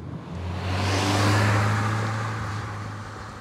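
A 1990 Fiat Uno Turbo i.e. drives along a mountain road in Asturias, its engine note rising into a strong revving pull that swells, then gradually eases off.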